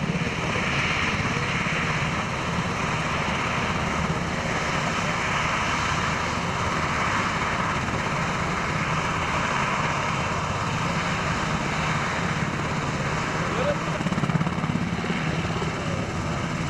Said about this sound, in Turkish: jandarma arama kurtarma helikopteri bölgeyi terk etmektedir